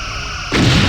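A Cardassian Galor warship opens fire on the player's ship in Star Trek Bridge Commander, a sudden loud booming blast that cuts in halfway through over a steady humming engine drone.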